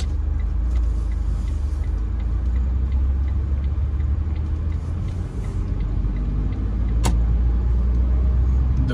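A car drives and turns right onto a city street in Kensington, Philadelphia, its steady engine and road rumble loud and continuous from the inside, with a sharp click near the end.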